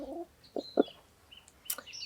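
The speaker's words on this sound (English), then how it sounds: "the most handsome buff Orpington rooster that ever existed" A buff Orpington rooster, a little over a year old, gives a few soft, short clucks and low grunting calls, close and fairly quiet, with a brief higher chirp near the end.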